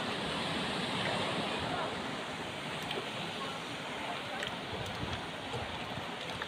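Broad, steady roar of rising sea surf and rushing water, loud and continuous, with waves breaking close by.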